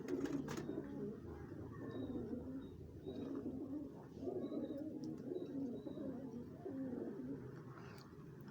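A flock of around 100 pigeons cooing in a loft, soft repeated throaty coos in a rolling rhythm, faint and fairly close with no talk.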